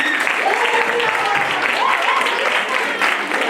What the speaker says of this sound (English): let us please release a round of applause